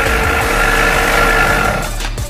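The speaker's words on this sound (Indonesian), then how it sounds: "Jangan digas-gas gitu." A child's minibike engine runs loud and close, holding a steady buzzing drone that eases off slightly near the end, with no voices over it.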